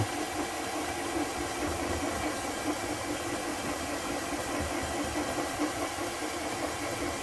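A marble polishing machine runs steadily on a vintage German swirl marble at 1500 grit, giving a constant, even mechanical hum and hiss with no breaks and no talking.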